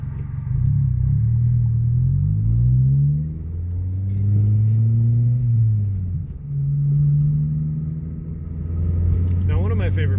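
A Mazda Protege5 drives around town, its engine note rising and falling through smooth gear changes with a low, steady rumble inside the cabin.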